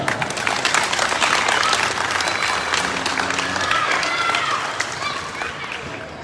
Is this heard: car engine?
no